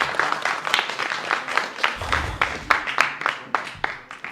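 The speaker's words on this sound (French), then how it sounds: "on les applaudit" Audience applause at an elimination judging event, a steady patter of clapping with sharp individual claps standing out, moderately close and fairly quiet, with a brief low rumble partway through.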